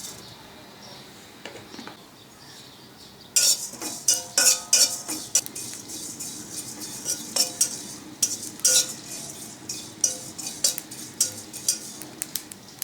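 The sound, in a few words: cumin seeds dry roasting and stirred in a pan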